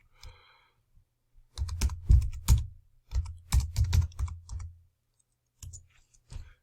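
Keystrokes on a computer keyboard as an email address is entered, coming in quick bursts of clicks separated by short pauses, fairly close and clear with no talking.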